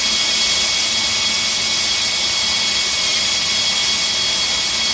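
A John Deere LA175 lawn tractor with a Tuff Torque transmission runs with its wheels spinning, giving a loud, constant engine drone with a bright high whine and no pauses.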